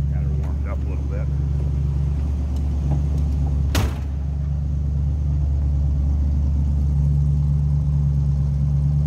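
A 1969 Mercury Cougar convertible idles steadily after warming up, a continuous low mid-pitched engine hum with one brief sharp click partway through, heard close and alone.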